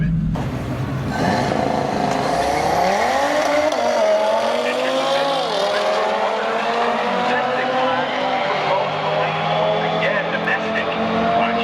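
A tuned Audi RS3 launches down the strip at Mission Raceway in a loud, close drag racing run, engine note climbing through gear changes as it pulls away, with an announcer talking over it.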